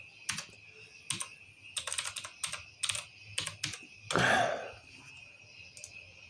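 Quick bursts of keystrokes on a computer keyboard as a password is entered, crisp clicks in short clusters with gaps, close and fairly quiet, with one longer rustling sound midway.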